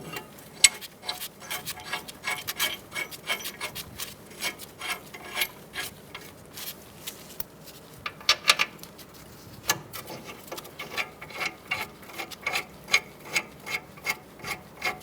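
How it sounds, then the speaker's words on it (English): Front brake bracket bolts are started by hand on a 2012-2017 Hyundai Accent, giving close, continuous ticking and scraping metal clicks in an irregular rhythm. "I'm going to put my bracket on and get my bolts started"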